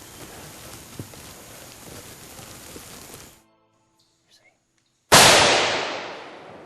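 A single sharp rifle shot at an elk during a Kentucky hunt cracks out loud and near, then decays over a second or more, after several seconds of steady wind or rain-like hiss and a short hush.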